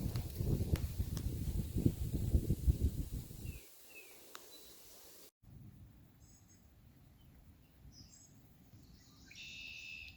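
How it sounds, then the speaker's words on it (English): Red-winged blackbird calling at a state park in Easton, Massachusetts, with a few short, faint, distant call notes over a low outdoor rumble of wind and ambient noise. "There's a red-winged blackbird there."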